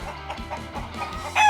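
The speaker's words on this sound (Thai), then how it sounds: "ไก่ฟักแล้ว" Chickens cluck in a video game, several short, close clucks in quick, uneven succession, ending with a louder, sustained call at the end.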